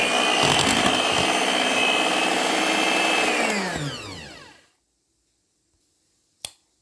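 Electric mixer beating orange puto cheese batter, a loud steady whirring motor with beaters rattling in the bowl for about four seconds before winding down to silence, followed by a single sharp click.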